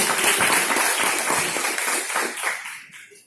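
A church congregation at a Sunday school service applauds its pastor with dense, sustained clapping that starts loud and fades out toward the end, with no talking.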